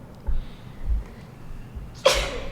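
A single sharp sneeze bursts out near the end after a few soft low thumps and quiet background.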